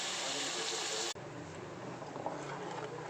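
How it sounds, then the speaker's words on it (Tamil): Lentil cooking water pours steadily into a pan of bean sambar, a continuous watery rush that briefly cuts out and then resumes at a slightly lower level. "பருப்பு வெந்த தண்ணி ஊற்றிக்கலாம்."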